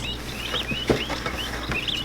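High, thin peeping chirps from young turkey poults repeat over a steady low hum, with a soft thump partway through.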